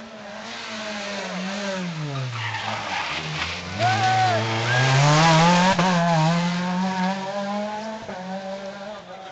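A new car passes at Virazel with a loud, rising and falling engine roar and sustained tire skidding, lasting about nine seconds and peaking midway.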